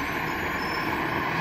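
Garbage truck on a trash collection run in America, a steady low engine rumble heard alone for a brief moment at moderate distance.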